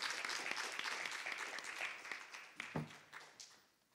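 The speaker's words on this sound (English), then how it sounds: "Give him a hand of applause." A church Sunday school audience at a sword drill competition claps together, the applause fairly soft and gradually thinning out to a few last claps.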